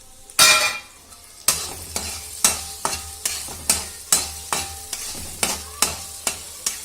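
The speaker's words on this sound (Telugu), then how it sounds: "బాగా పోపు అంతా వేగేంత వరకు మనం సిమ్లోనే స్టవ్ ఉంచుకుని ఈ రకంగా కదుపుకుంటూ ఉండాలి." Tempering spices with green chillies frying in a pan on a low flame, a spoon scraping and tapping in a steady rhythm about twice a second over a continuous soft sizzle, close and clear.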